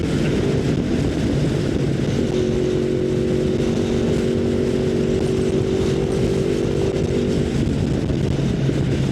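A motorcycle rides at a steady pace, its engine droning loudly and continuously under heavy rushing wind, with a sustained tonal whine in the middle stretch.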